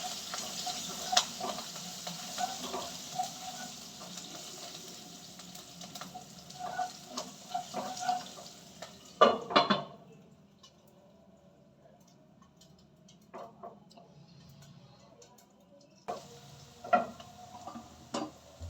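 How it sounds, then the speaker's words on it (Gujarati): Sesame, mustard seeds and cumin with a pinch of asafoetida, chili and curry leaves crackle in hot oil on a low gas flame, faint scattered pops and ticks with a brief louder clatter midway. "હવે આપણે તલ ને રાઈ જીરું છે એ સારી રીતે તતડી ગયા છે"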